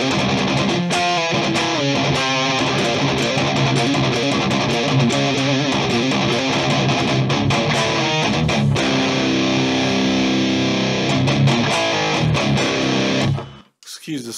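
Distorted rhythm guitar through an Axe FX II dual amp setup with boosted mids, chugging palm-muted riffs and sustained heavy chords for about thirteen seconds, loud and dense, then cutting off abruptly.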